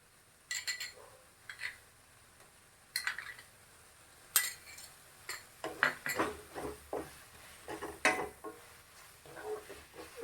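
Ginger garlic paste fries with mashed tomatoes in a pan for chilli parotta while a metal spoon stirs it, producing irregular scrapes, clinks and knocks against the pan in short bursts, close and fairly quiet, without speech.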